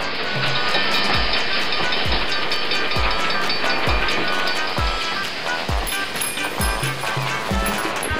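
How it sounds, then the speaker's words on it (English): Wooden Brio toy train rolls along a wooden track, giving a steady clatter with regular soft knocks about every half second as it crosses the joints, heard close with a faint background hiss and no talking. "The train will take the vegetables to the port."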